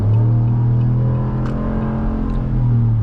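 A 2026 Ram 1500 Laramie with a naturally aspirated HEMI V8 accelerates onto a highway in sport mode. A loud, deep, steady engine roar fills the cab throughout, with no talking.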